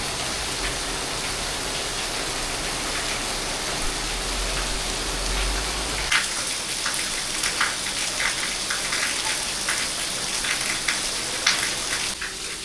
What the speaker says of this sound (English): It's proper rain.